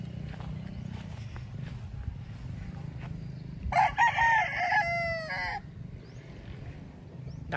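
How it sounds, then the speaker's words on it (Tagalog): A rooster crows once at a farm, a loud, close cock-a-doodle-doo of about two seconds in the middle of the clip, set against quieter farmyard background noise and soft clucking. "mga gwapo kining mga manuka niya, mga tagas og ibarog."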